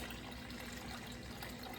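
Water poured from a container on a kitchen scale while measuring for soap making, a steady, soft liquid trickle throughout, fairly quiet and close with no voices.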